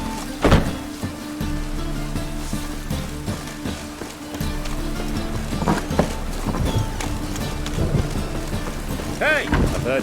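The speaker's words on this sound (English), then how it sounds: "It just rains and rains." Rain falls steadily with thunder rumbling in The Witcher 3, a sharp thunder crack near the start, constant rain hiss, low tonal game music and brief voices over it.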